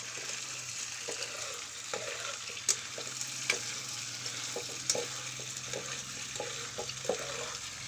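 Topping for halaya frying in a pan until brown, a steady close sizzle with occasional stirring clicks and scrapes, no talk.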